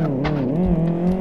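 Audi Q7 mod car driving in the Live for Speed racing game, a steady engine drone with a sustained harmonic hum that rises slightly in pitch, alone and fairly loud for just over a second.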